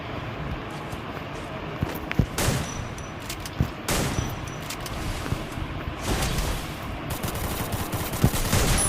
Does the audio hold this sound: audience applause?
no